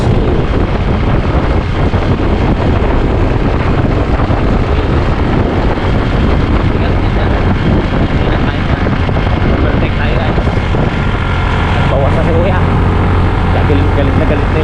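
A 2024 Yamaha Mio i 125 scooter strains uphill with a loud, steady engine drone buried in heavy wind rush, and a voice talks over it.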